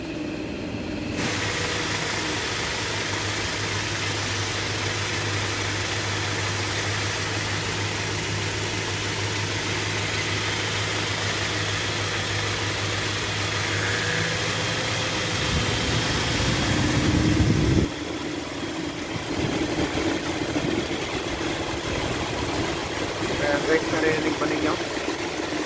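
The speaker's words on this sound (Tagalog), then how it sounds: "Pagka umandar pala yung fan, doon siya nang gagaling yung humming noise." A car's radiator fan motor hums steadily with the A/C on, under a continuous engine drone that shifts and grows rougher near the end.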